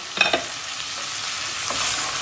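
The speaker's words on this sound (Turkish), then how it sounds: "Soğanı bir daha karıştırıyoruz." Onions fry in a pan while a utensil stirs them, giving a few quick scrapes over a soft continuous sizzle.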